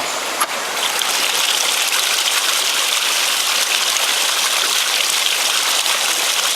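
Steady creek water rushing and gushing around a ram pump, a continuous broadband flow heard close up with no talking.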